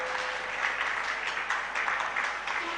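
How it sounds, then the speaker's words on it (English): Applause from an audience at a physiotherapy conference in Chandigarh, welcoming a guest: steady, dense clapping from many hands that fills the whole moment without any voice on top. "Can we have a round of applause?"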